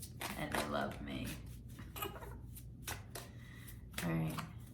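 Large tarot cards riffle and slap together in quick, soft bursts of shuffling, close and fairly quiet, broken up by someone talking.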